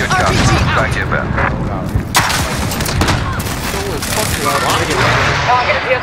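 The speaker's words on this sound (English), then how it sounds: "Airstrike, you are cleared, hot." Airstrike explosions in a video game, several heavy booms and bursts of gunfire-like blasts that crowd one another at close range, with voices talking over the barrage.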